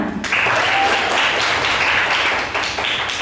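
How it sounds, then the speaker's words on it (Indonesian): A classroom of students gives a short round of applause, a brief burst of clapping heard close in the room. "Tepuk tangan."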